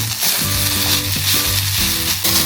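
Green chillies and mint sizzle and fry in a hot pan for mint rice, a loud close crackle with stirring scrapes breaking in at intervals, no voices.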